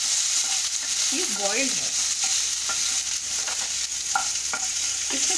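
Boiled lotus stem frying in a pan gives a steady sizzle with occasional stirring clinks, under a woman's brief speech.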